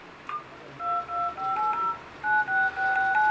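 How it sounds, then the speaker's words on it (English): A series of short, steady electronic beeps as keys are pressed one after another in an even rhythm on a Chuwi V17HD 3G phone tablet. "So it has both a dial tone, like a sound when you press the key"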